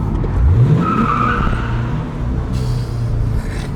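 Car driving fast, engine rising in pitch as it accelerates, with a sustained road rumble and a hint of tire noise, loud and close throughout.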